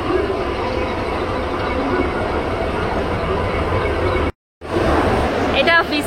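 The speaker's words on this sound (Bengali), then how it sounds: "এই যে প্ল্যাটফর্ম নাম্বার 11-তে আমাদের ট্রেন অলরেডি দিয়ে দিয়েছে 13053 হাওড়া রাধিকাপুর এক্সপ্রেস" The 13053 Howrah Radhikapur Express stands at platform 11 of a busy station, giving a loud, steady rumble with station noise and a brief cut, then a few metallic squeals near the end.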